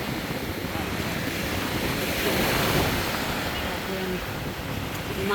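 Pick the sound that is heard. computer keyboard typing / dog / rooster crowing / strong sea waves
strong sea waves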